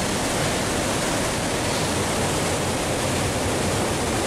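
A waterfall roars in a steady, dense rush of falling water, loud and unbroken for the whole stretch with no voices.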